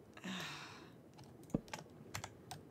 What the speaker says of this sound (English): it's a bit clacky on the keyboard